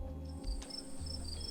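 Crickets chirp in quiet, rapid high-pitched pulses over a low background hum, with no voices present.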